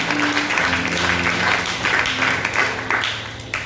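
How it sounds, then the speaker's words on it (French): A church congregation claps and cheers in praise of Jesus, a dense, loud wash of applause filling the room with voices mixed in throughout. "Acclame bien le Seigneur Jésus"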